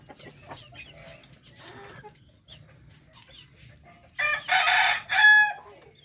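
Native chickens on a Filipino farm clucking softly at a distance, then a rooster crows loudly and close in two long calls near the end.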